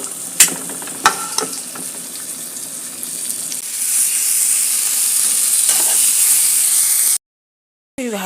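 Seasoned chicken breasts fry in a pan with a close, steady sizzle and hiss, broken early by a few sharp clatters, then growing louder before a sudden brief dropout.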